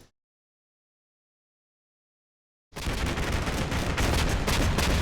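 Gunfire in the tactical war game Combat Mission Black Sea arrives after nearly three seconds of silence as dense, loud overlapping shots and bursts that continue to the end.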